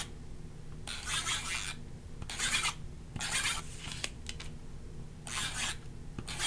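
A tape runner lays adhesive onto a 3x5 notebook cover in short rasping, scratchy bursts, five strokes with brief pauses between them, close and fairly quiet over a low room hum.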